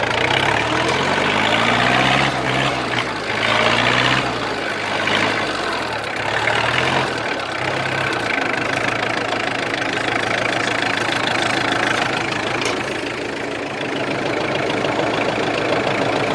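An Iseki 32 hp four-wheel-drive tractor engine idles nearby, a loud, steady diesel rumble with a rhythmic knocking pulse that continues unbroken throughout, with no voices.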